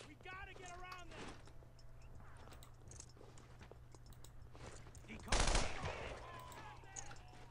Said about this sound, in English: Heavy base of fire. Covering fire.